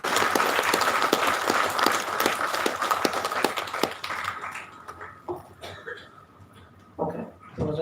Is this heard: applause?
yes